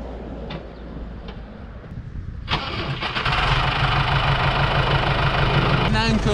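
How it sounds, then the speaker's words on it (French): A tractor engine cranks and catches about midway, then settles into a steady, loud, rumbling idle to warm up, following a quieter stretch of background noise and faint voice. "je vais mettre le moteur un petit peu à chauffer"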